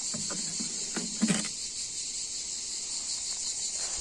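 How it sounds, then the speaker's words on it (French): Cicadas sing outdoors in a continuous, shrill, steady buzz that stays constant throughout, with a few brief faint knocks and rattles early on beneath it. "Et ceux qui n'aiment pas les cigales"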